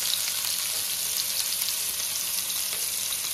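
Green masala for a bangude (mackerel) dish frying in oil in a pan, a dense, steady sizzle heard up close with no pauses.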